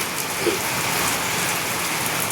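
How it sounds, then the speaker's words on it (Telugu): Heavy rain pours steadily in a village, a dense continuous hiss of drops hitting surfaces close by, with no voices. "ఫుల్ వర్షం పడుతుంది"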